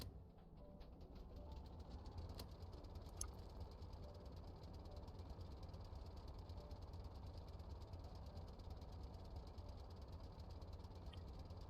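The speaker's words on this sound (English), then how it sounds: "We have to start the engine though" A small engine runs steadily at a low idle with a continuous rumbling drone for the whole stretch, close and even, with no speech over it.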